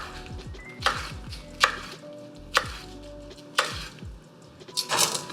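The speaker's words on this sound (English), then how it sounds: "we're just going to give these collard greens about 1/2 inch chop" Knife chopping rolled collard greens on a cutting board, about six sharp close thuds spaced roughly a second apart, with quiet kitchen background and no talk.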